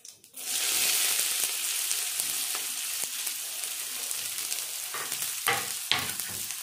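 Chopped onion dropped into hot oil with crackled cumin in a kadai, bursting into a loud, steady sizzle that holds throughout, with a few sharp stirring scrapes and pops toward the end.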